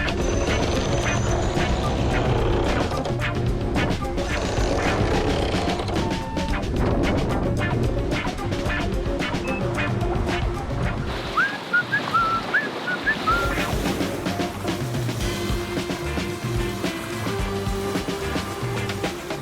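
Squall wind and waves buffet a 60ft trimaran at sea, with steady loud gusts over the microphone, crashing surf and splashes, and a brief lull before the roar picks up again.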